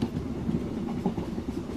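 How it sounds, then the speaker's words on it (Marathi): A moving train gives a steady, close rumble with a faint rattling clatter that runs unbroken through the whole moment, and no voices are heard. "ट्रेन तर थांबलीच नाही"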